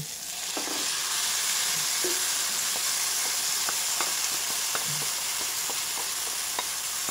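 Mung beans tipped into a hot sauté pan, setting off a loud, steady sizzle with scattered crackles and pops that continue throughout, close and with no voices.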